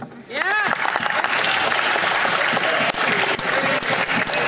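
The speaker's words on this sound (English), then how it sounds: "Conservatives jump up and they clap and they support each other every single opportunity." Applause from members in the House of Commons, a loud, dense burst of clapping that holds steady with a brief vocal call at the start.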